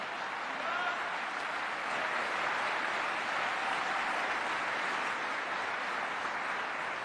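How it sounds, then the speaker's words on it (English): Sustained audience applause during President Biden's farewell speech, a broad, even wash of many hands clapping in a large crowd, steady and continuous throughout with no voices rising above it. "Clap for that, folks, because she deserves it"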